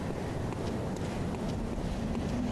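Steady gusting wind in the video game Bloodborne, a dull continuous rush buffeting the microphone on high ground, with no voices.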